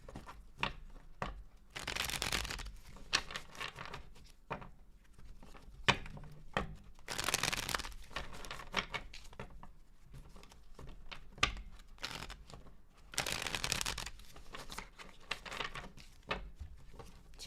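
Tarot cards being shuffled by hand, quiet crisp riffling bursts recurring every few seconds amid light papery rustling and taps.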